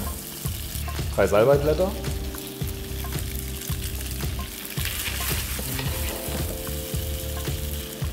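Meat, onions and precooked pasta sautéing in a pan, a steady close sizzle with repeated scraping stir strokes; a person briefly speaks over it.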